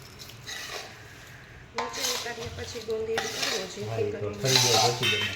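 A spoon scrapes and knocks around a pan while mava with added edible gum is stirred, irregular clattering strokes that grow busier and louder partway through, with a voice faintly underneath.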